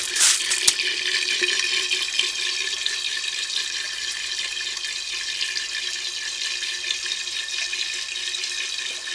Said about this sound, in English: We're coming up towards the end of the first filling cycle of this larger grow bed with plants in it.